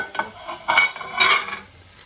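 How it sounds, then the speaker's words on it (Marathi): Rice frying in ghee in a pot as a spoon stirs it, giving short bursts of scraping and soft sizzling in a few separate strokes, close up and without talk. "आता तुपामध्ये हे तांदूळ"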